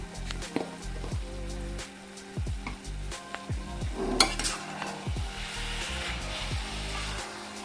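Grated coconut filling with cardamom cooks in a pan, a spoon scraping and stirring through it over a low, steady sizzle, close and clear, with no talking.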